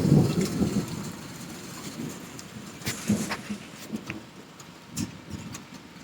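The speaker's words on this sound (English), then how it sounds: "Rain, rain, rain." Steady rain falls on a patio outdoors, a dense continuous patter with occasional louder splashes and drips, no voices.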